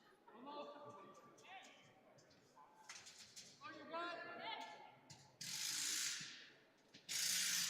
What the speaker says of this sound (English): currently working on bolting in lateral 4